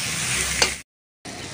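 A little cumin added to masala frying in oil, a bright, loud, continuous sizzle with a small stir-like pop, cut by a short silence before the sizzle resumes.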